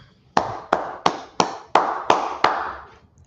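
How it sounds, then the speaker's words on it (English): A group claps together in a brotherhood class, seven sharp, evenly spaced claps in a steady rhythm, loud and close, with no talk over them. "All right, clap it up."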